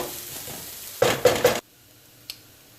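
Onions, garlic and chilies fry in a pan for vegan curried baked beans, with a low sizzle under three sharp stirring scrapes and clatters, then a quiet pause broken by a single small clink.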